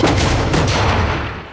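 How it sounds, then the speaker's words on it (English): An 88mm anti-aircraft flak gun fires, a loud close blast with a heavy thump that trails off into a rumbling tail. "Weapons like this 88mm flak gun lined the Ruhr Valley."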